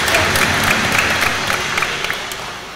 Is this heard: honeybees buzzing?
no